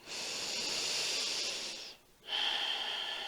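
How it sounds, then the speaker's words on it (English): Slow breathing through the nose during a yoga flow, a long airy inhalation followed by a short pause, then a hissing exhalation, close and clear with no talk. "So you're breathing through the nose,"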